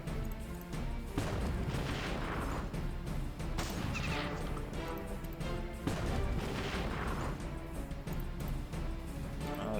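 Tanks fire at a fortress in the strategy game Battle Nations, a dense, continuous barrage of booming cannon shots and crashing impacts under a steady backdrop of battle music, moderately quiet overall.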